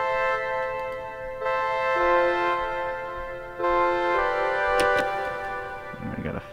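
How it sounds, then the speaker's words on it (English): Short synthesizer chord stabs programmed in LMMS repeat in a steady pulse over a low buzzing bed, moderately loud and without speech, with a brighter burst near the end. "we're going to make the chords into stabs as well."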